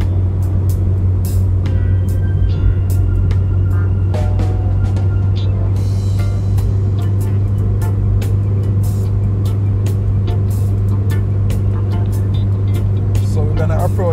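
A car drives along a road near Kendal in Manchester, Jamaica, its engine and road noise a steady, loud drone with intermittent clicks and rattles throughout.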